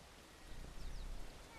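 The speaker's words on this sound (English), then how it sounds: "You need to get out of the rain there, kitty cat." Rain falls steadily in the video game Bellwright, a faint, even hiss of drops through the whole stretch with no voice over it.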